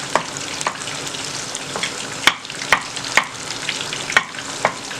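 Onion and garlic frying in olive oil, a steady sizzle with repeated sharp scrapes of a utensil stirring the pan at a close, even pace.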